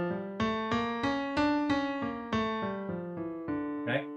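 A pitched instrument plays a D harmonic minor scale as a steady ascending run of about ten clean, evenly spaced sustained notes, each ringing into the next, ending with a brief softer noise.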